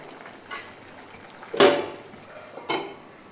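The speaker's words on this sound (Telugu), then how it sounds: "ఇప్పుడు కొంచెం మళ్ళీ కలబెట్టుకొని మూత పెట్టేసుకుందాం ఉల్లిపాయలు ఉడికేదాకా" Onions stirred in a pot before the lid goes on, a few sparse clinks and scrapes, with one louder metallic clatter midway, over a quiet simmering background.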